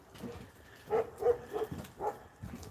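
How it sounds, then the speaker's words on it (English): A dog barks in a string of four or five moderate, fairly evenly spaced barks, heard at some distance against a quiet background with no talk. "That dog makes me a little nervous."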